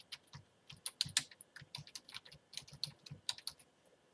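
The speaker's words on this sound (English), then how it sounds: "So you're going to type in your name." Fingers type on a computer keyboard, a quick uneven run of crisp, close key clicks with a few sharper taps, alone with no talk.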